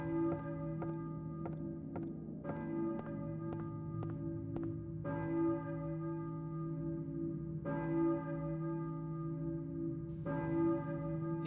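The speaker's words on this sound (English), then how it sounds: "He hears a church bell." Church bell tolling in the Silent Hill video game, a steady series of resonant strikes with long ringing overtones, about ten hits over a continuous low drone, with no talk.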